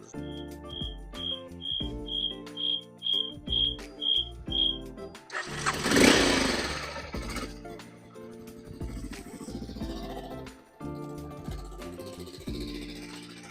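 After a series of short beeps, an Aprilia Pegaso 650 motorcycle engine cranks and fires up with a loud burst, then settles into an uneven idle.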